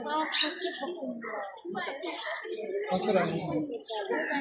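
A white kalij pheasant calls at a zoo, giving short chirping notes amid the busy murmur of visitors' voices.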